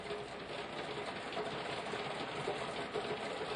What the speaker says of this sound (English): Rain on can like rat-a-tat-tat, not pitter-patter.